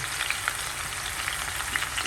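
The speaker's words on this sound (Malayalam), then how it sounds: "കശുവണ്ടി മുന്തിരിയും വറുത്ത എണ്ണയിൽ തന്നെ നമ്മൾ നമ്മുടെ സവാള ഇടാൻ പോകും" Sliced onions fry in hot oil already used for frying cashews and raisins for chicken biryani, a steady dense sizzle with crackling pops throughout, close and even, with no voices.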